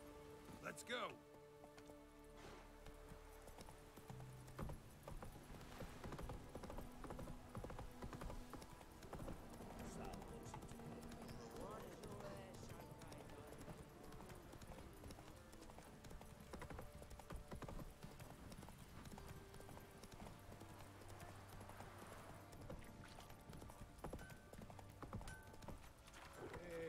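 Steady clip-clop of horse hooves in The Witcher 3 video game runs throughout at a walking rhythm, mixed with soft rain-like patter and occasional voices underneath.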